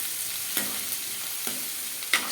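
Curry leaves sizzle and crackle in hot oil in a pan, a steady close frying hiss with a few sharp pops and stirring knocks.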